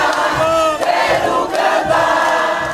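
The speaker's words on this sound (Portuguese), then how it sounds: "atrás do estandarte, que leva os ingredientes de uma bacalhoada, vai essa multidão" Carnival street crowd marching behind a banner bearing the ingredients of a bacalhoada, a loud, dense roar of many voices singing and shouting together, steady and close.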